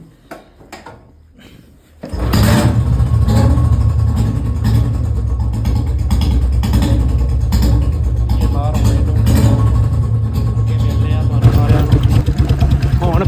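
A motorcycle engine catches after a few seconds of clicks and rattles, then idles loudly and steadily nearby with a rough, throbbing rumble.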